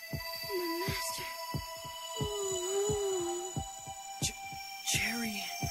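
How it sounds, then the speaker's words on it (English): A rapid, throbbing anime heartbeat sound effect thumps steadily under a background hum, with faint voice-like tones drifting over it. "Why is my heart beating so fast?"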